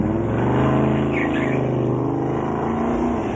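A small red Torana hatchback's engine drones loud and close with a steady, slightly rising rumble at a car show's go-to-whoa event.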